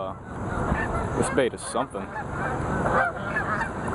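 Geese honk loudly and repeatedly in a noisy outdoor scene near a bass-fishing spot, with many flying overhead and someone speaking briefly over the calls.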